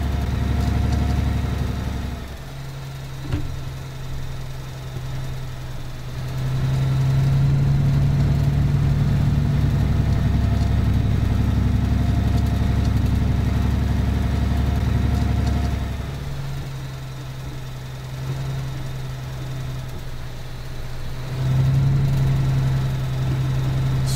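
A truck engine idles in Alaskan Road Truckers with a steady low rumble that swells and settles in long phases. It is loud and close, with no talk.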